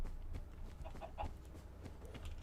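Chickens clucking faintly in the distance, a few soft, scattered calls over a low, steady outdoor rumble.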